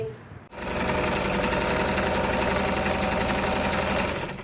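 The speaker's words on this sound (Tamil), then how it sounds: "இதே மாதிரி இப்ப நான் தச்சு காமிச்சிடறேன்" A sewing machine runs steadily as it stitches blouse fabric for a simple piping design, starting abruptly after half a second of quiet and holding a loud, even mechanical whir with a fast stitching rhythm to the end.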